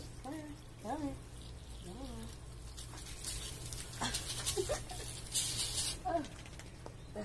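A frightened dog whimpers in short, rising whines while being bathed with a Woof Washer 360 washer, with water pattering steadily underneath; the whines cluster early, then softer sounds follow over the spray.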